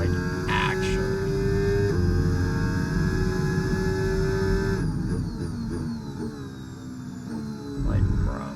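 An F1 race car in a video game revs hard, its high engine whine climbing steadily in pitch, then dropping and climbing again after a gear shift, loud and close.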